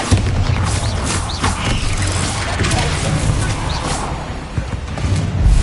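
Bombarda spell explosion in Hogwarts Legacy: a dense, booming blast with rumbling debris that fills the scene, thudding impacts scattered throughout and loud from start to finish.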